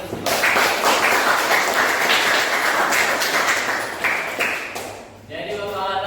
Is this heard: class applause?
yes